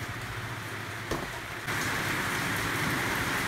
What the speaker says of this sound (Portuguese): não sei se tá dando pra vocês ouvir direito aí por causa do barulho da chuva. Chovendo bastante aqui hoje.